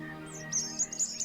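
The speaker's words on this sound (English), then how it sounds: "Higher up in the trees, numerous birds are still on the lookout for a partner" Small birds chirp and trill high in spring forest trees in Central Europe, short bright calls repeating over a low steady background hum.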